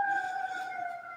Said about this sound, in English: I think that was a fire truck.